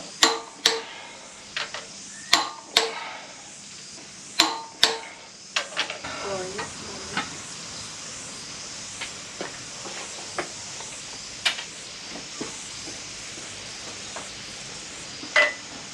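A torque wrench tightens bolts on an RB20DET engine going into a Nissan Cefiro, run up to 100 and then nearly 120 foot-pounds. Sharp, close metallic clicks and clanks come at uneven intervals over low workshop background noise.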